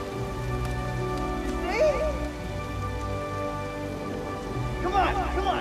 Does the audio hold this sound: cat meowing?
no